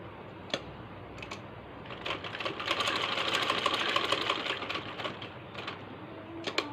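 A sewing machine stitching along the edge of a sleeve, starting in short clattering bursts, then running in a continuous rapid whir before breaking back into brief spurts, close and clear.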